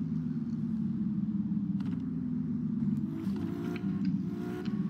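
A car engine in the Vehicle Simulator video game drones steadily at a constant level, its pitch dropping and climbing as the automatic gearbox shifts at around 3,500 RPM.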